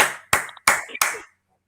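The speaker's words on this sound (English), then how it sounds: "I know how to clap real well" Four sharp hand claps ring out close and loud in an uneven rhythm, with a short pause between the second and third, followed by quiet.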